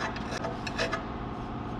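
Hand filing with a flat file across a flat metal face on a bellhousing to knock down a raised burr, a steady close rasping scrape with a few brighter strokes, alone without talk.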